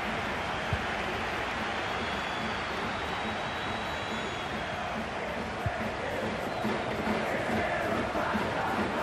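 Dense stadium crowd noise in the video game FIFA 21 on PS5 at a Liga MX match between Club America and Cruz Azul, a steady broad roar of chanting and cheering that holds loud throughout.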